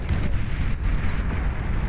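Long-range plasma cannon blasts in a strategy video game hit a base defense, making a steady, dense, rumbling roar of explosions that stays loud throughout, with no talking.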